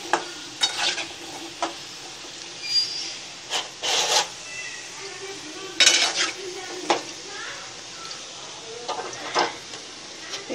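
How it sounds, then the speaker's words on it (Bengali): Sim ful pitha frying in a pan crackle and sizzle up close, broken by intermittent scraping and clinking of a spatula turning and lifting the pieces against the pan. "এইভাবে লাল করে ভেজে নেবেন"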